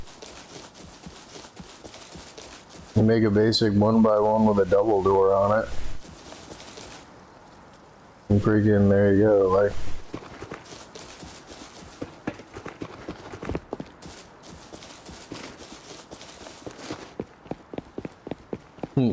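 Horse hooves clip-clop in the survival video game Rust, a steady run of sharp, evenly spaced footfalls that carry on after two bursts of talk, close and moderately loud.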